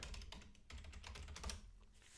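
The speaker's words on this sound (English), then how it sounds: "I'm going to type in my password." Quick, soft keystrokes of a password being typed on a Mac keyboard, close by and fairly quiet, in an uneven burst of taps with no talking.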